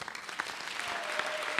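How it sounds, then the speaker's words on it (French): A church congregation bursts into applause during a worship service, a short, dense burst of many hands clapping close and loud with no speech over it. "Applaudis très bien le Seigneur des Seigneurs"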